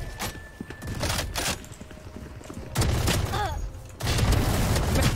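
Odin machine gun in the Valorant video game fires in long sustained bursts, loud and close, with brief gaps between volleys and other game effects mixed in.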